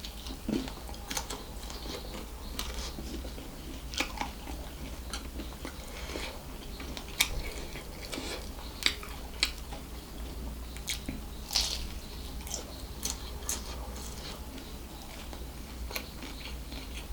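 Someone bites and chews a prawn vada, a Sri Lankan street-food snack from Kelaniya, up close: quiet scattered crunches and soft squishy chewing sounds at an irregular pace, with no talking.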